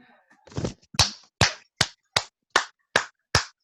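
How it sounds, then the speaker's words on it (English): Virtual applause at an online student leadership retreat: a run of about eight sharp, evenly spaced claps or slaps, close and dry, following a few soft sounds. "Virtual applause."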